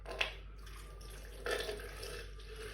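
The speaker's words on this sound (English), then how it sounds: "So here we go, moment of truth. We're gonna pour." Homemade cider pours in a soft, brief trickle with a couple of faint splashes, quiet and close against a low background hum.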